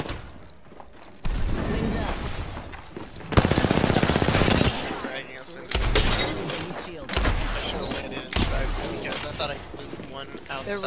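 Bursts of rapid video game gunfire in a chaotic squad firefight, loud and repeated in several sharp volleys, with players talking over the shooting.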